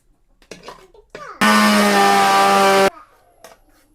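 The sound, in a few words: mixer grinder grinding curry ingredients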